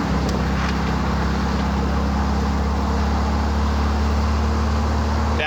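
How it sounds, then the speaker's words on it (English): A 1948 Porsche 356 Speedster replica drives over bumps, its engine a steady, loud low drone with a constant hum and faint rattles, and no talking. "Going over some bumps, no issues."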